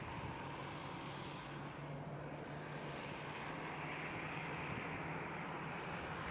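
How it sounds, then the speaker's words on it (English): Emirates Airbus A380 rolling for takeoff at Amsterdam Schiphol, its engines a steady, distant-sounding roar with a low droning hum running through it, no voices. "there goes the A380. Rolling now"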